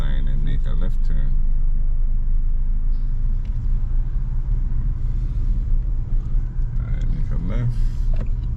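A car on a driving test rolls along with steady low engine and road rumble, its cabin drone constant throughout while a voice talks over it.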